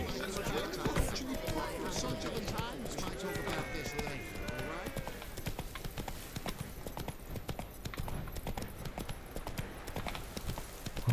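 A horse gallops in The Witcher 3: Wild Hunt, a rapid rhythmic clip-clop of hooves running steadily under game dialogue and a distant crowd-like murmur.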